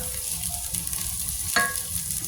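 Mung beans hit a frying pan already holding golden-browned ginger, shallots and garlic, giving a close, steady sizzle with a brief clatter as they land partway through.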